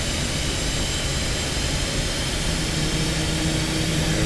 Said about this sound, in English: Wait for engine speed to come up.